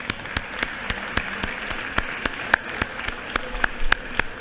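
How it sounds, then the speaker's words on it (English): Scattered, sparse clapping from a legislative chamber audience greeting a visiting cheerleading team, individual claps sharp and distinct over a steady room hiss, with no voices. "if y'all would just help me give them a round of applause"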